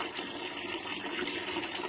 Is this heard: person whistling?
no